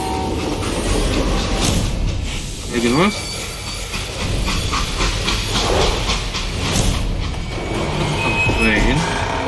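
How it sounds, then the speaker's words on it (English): Steam train in the western shooter Call of Juarez: Gunslinger, hissing steam and rhythmic clickety-clack of wheels rolling loudly and continuously, with someone speaking over it. "Train."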